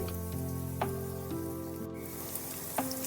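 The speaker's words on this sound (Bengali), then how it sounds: "এইভাবে একটু দেখে শুনে একটু ভাজা ভাজা করতে হবে" Sweet potato pieces fry in a pan over a gas flame, giving a quiet, steady sizzle with a few soft clicks and taps from the pan.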